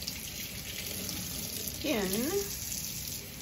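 Warm water runs steadily from a kitchen tap into a jar, a broad hiss with a brief bubbling, gurgling swell partway through as the stream hits the water; a voice is briefly heard.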